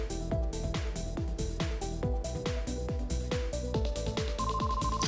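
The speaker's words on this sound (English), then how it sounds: "Lai's phone started ringing." A phone rings with a repeating electronic ringtone, its regular pulsing chimes loud and close throughout, and a higher steady tone comes in near the end.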